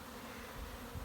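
Buckfast honey bees buzz near their hives, a faint, steady hum of many wings close by with no other sound over it.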